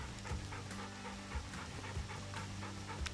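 A hunting dog pants steadily after retrieving a shot bird at a wing-shooting clinic, its quick rhythmic breaths close by over a constant low background hum.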